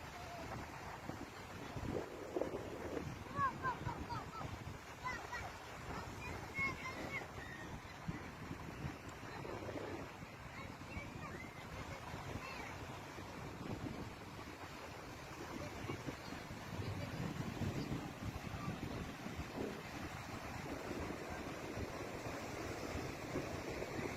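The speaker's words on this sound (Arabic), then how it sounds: "باش تسمعوا هذيك الموج ديال البحر" Sea waves wash steadily against a rocky family beach at Skhirat, a continuous broadband surge mixed with wind buffeting the microphone, with no voices heard.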